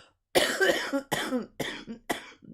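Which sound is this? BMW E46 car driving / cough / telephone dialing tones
cough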